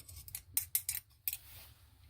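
Scissors cut plastic parts for a replacement Mitsubishi Lancer (2007-2017) key remote shell: a quick run of crisp, close snips and clicks, then a short pause and one final cut, with no one talking.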